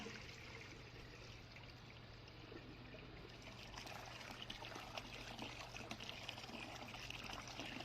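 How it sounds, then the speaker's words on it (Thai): Water pours steadily over dried beans set to soak for a filling of khanom thian, a soft continuous trickle and splash over a low hum, with no talk. "ใส่น้ำลงไปก่อนค่ะ แช่อย่างน้อยสี่ถึงห้าชั่วโมงนะคะ"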